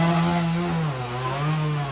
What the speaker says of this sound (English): Dad just came in with a chainsaw.